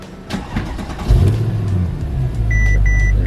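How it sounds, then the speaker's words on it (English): Mercedes-AMG S63 engine starting after an intake wiring repair: a short crank catches into a firm, rising idle up close, with a few electronic chimes sounding over it. "this should change when I start the engine"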